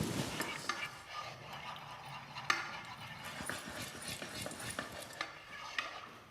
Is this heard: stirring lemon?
yes